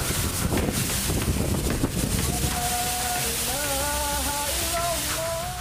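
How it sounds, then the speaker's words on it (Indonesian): Strong wind with rain battering a village in Tegal, Central Java, a continuous loud roar with heavy gusts buffeting the microphone, while faint whistling tones rise and fall in the background. "Inilah video amatir detik-detik terjadinya bencana angin kencang disertai hujan"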